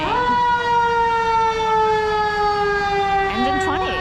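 Wailing fire engine siren from Engine 20 in Philadelphia's Chinatown, loud and steady with a slowly falling tone on a snowy, rainy Market Street downtown, filling the whole stretch alone.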